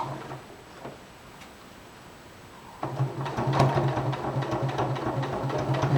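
A sewing machine stitches a tower placket about a sixteenth of an inch from the edge. A few faint ticks come first, then the motor hums steadily while the needle chatters at close range for the last few seconds, with no talk.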